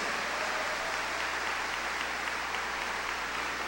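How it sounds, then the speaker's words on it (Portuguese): A church congregation applauds during a worship service, an even, moderately distant wash of many hands clapping, with a low steady hum running underneath. "Vamos aplaudir Jesus por isso?"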